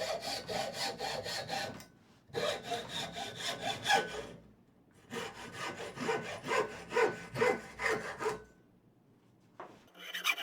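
A hand saw cuts through wood clamped in a bench vise, with rapid rhythmic rasping strokes in three bursts separated by short pauses, close and clear, followed by a brief clunk at the end.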